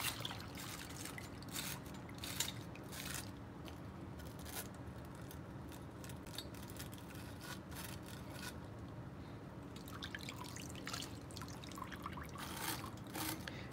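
Tap water runs in a steady, faint trickle into a kitchen sink while a trumpet is cleaned under it. Soft intermittent knocks and scrapes come through, with no talking.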